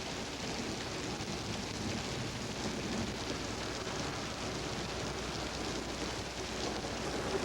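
Steady, dense rain pours down through a thunderstorm, a constant broadband hiss of drops on surfaces with no clear thunderclap standing out and no voices.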